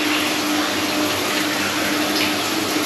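An electric Mira rainfall shower runs in a newly fitted bathroom shower room, giving a steady, loud, close hiss of falling water that never changes over the whole stretch, with no voices.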